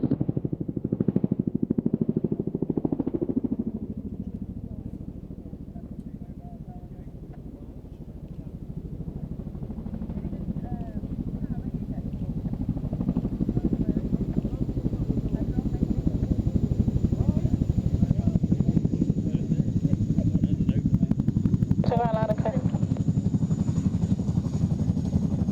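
A fixed-undercarriage aircraft performing a backwards takeoff at the Waddington Airshow: a steady engine drone heard from a distance, holding for a long stretch and rising slightly, under a commentator's voice.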